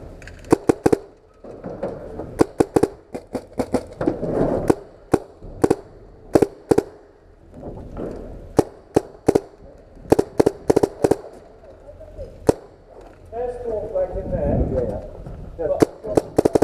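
Paintball guns fire in sharp single pops and quick bursts during an urban paintball game in the UK, loud and close, with players shouting and talking between shots.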